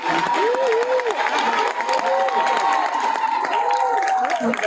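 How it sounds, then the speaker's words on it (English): Lively applause and cheering from a crowd at a college graduation ceremony, sustained clapping with whoops over it, while an announcer's amplified voice carries through. "Let's give them a round of applause."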